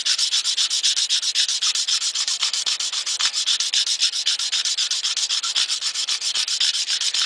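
A file scrapes stainless steel car trim in fast, even back-and-forth strokes, a close, rhythmic rasp that continues without pause and without any voices.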